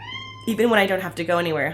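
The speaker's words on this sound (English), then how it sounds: "That's my cat" A pet cat named Smokey meows in a series of clear, close, drawn-out cries at home, with a person speaking just before and between the meows.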